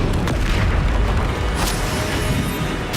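A Confringo fire spell detonates in the video game Hogwarts Legacy with a loud, booming blast that rumbles on continuously, with brief sharper bursts layered over the roar.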